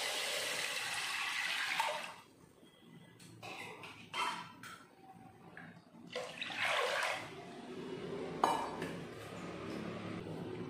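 Water pouring and splashing into a pressure cooker with dal and turmeric, two cups added for sambar, in a few bursts of gushing and trickling with brief clinks between pours, close and fairly quiet.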